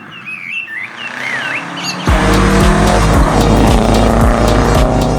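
A recent four-wheel-drive Toyota Yaris drives on a race track: birds chirp alone for about two seconds, then a loud, close engine roar with tire noise abruptly takes over and holds steady.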